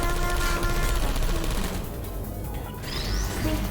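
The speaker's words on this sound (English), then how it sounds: "I heard gunfire" Rapid bursts of automatic gunfire in a video game crackle amid dense, noisy action, fading slightly mid-way before picking up again.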